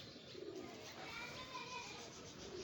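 Pigeons coo softly, a couple of low murmuring calls standing out over faint background noise. Someone speaks Hindi nearby while showing a pair of female pigeons, and children can be heard distantly.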